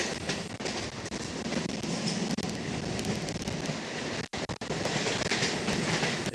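A WAG-7 electric locomotive train roars past at speed close by on the Sealdah–Dankuni line, its wheels beating a rapid clickety-clack over a loud, constant rumble.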